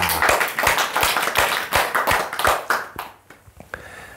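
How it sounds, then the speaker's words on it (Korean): An audience at a Buddhist lecture breaks into loud, dense applause, sustained hand clapping that thins out into scattered final claps. "큰 박수 부탁드립니다."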